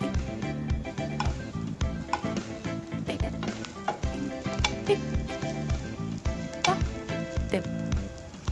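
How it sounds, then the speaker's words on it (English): Sausage pieces fry in a little butter in a pan, with a steady close sizzle running throughout and occasional stirring clicks and soft spatter. "Cut the sausages into pieces and fry them with a little butter."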